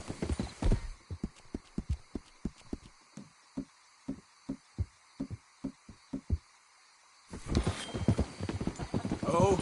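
Horse hooves in Red Dead Redemption 2 clip-clop in a steady, evenly spaced rhythm, with a whinny and busier game sounds at the start and end.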